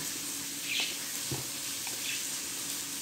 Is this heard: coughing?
no